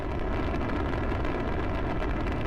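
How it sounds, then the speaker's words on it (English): A space shuttle lifting off makes a dense, continuous low rumble with a roaring wash over it. It stays loud and steady the whole time, with no voices. "That's actually the sound of the space shuttle taking off."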